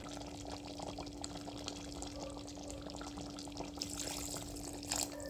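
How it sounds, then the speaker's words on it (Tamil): Water is poured into a pressure cooker of chicken gravy, splashing and trickling steadily for several seconds, a continuous pouring sound close by with a low steady hum underneath. "ஒரு டம்ளர் தண்ணி ஊற்றுவோம்."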